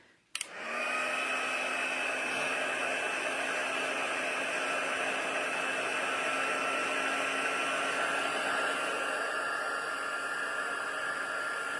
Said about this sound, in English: I'm going to go ahead and run my heat tool over that